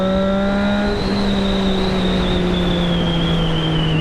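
A Triumph Street Triple 675 motorcycle engine hums steadily while riding on a cold, foggy Delhi winter morning commute, a near and loud tonal drone with a high whine holding roughly constant pitch, slight dip after a second.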